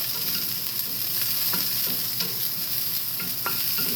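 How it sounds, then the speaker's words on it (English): Chopped onion sweating in a hot pan on a home stove, a steady close sizzle with occasional sharper pops and stirring scrapes, continuous and fairly loud with no talking. "cook the onion just a little bit, just sweat it"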